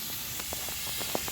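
Faint steady hiss of onions sizzling on a hot iron griddle, with small soft crackles popping now and then.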